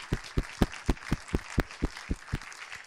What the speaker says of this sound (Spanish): Creo que un merecido aplauso.